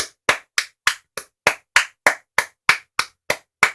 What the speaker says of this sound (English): let's give Pete Dunne a round of applause